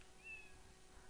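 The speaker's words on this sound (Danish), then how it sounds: "Og så siger den miau." A single short, faint cat meow plays as a sound effect in the Scratch programming tool, a thin high tone rising briefly over quiet background hiss.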